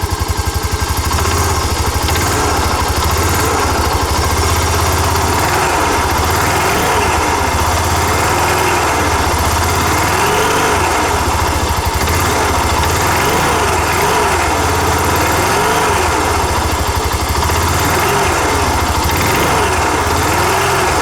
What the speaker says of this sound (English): I got some noise in my Honda Rancher 2007 TRX400FGA